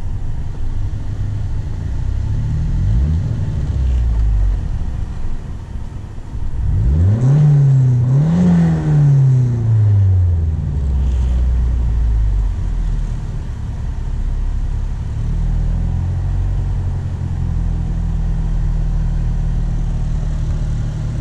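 A 1989 Shelby CSX engine starting hot: the starter cranks briefly, the engine fires and revs up with a rising and falling whine, then settles into a steady, close idle that continues to the end.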